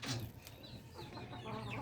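Chickens cluck softly nearby in a brief stretch of farmyard noise, with a few higher calls mixed in.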